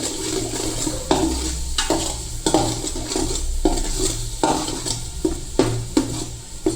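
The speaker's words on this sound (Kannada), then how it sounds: "ಇವಾಗ ನೋಡ್ಬೋದು ಮಸಾಲ ಚೆನ್ನಾಗಿ ಫ್ರೈ ಆಗಿದೆ" Masala sizzles and fries in hot oil for Dindigul chicken biryani, with steady crackling and repeated spoon stirs and scrapes against the pot, close and continuous.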